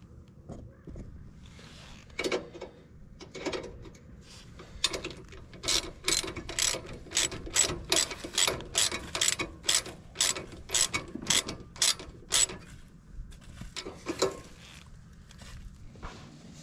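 A socket wrench ratchets in quick clicking bursts while grounding a home electrical service, first in short spaced runs, then a long steady string of close, crisp clicks, with faint workshop noise between.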